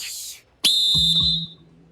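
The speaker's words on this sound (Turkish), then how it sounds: "Şimdi başlama düdüğünü çalıyorum." A single sharp, shrill starting whistle blast for a game, held for about a second and cut off abruptly, with a couple of soft knocks underneath.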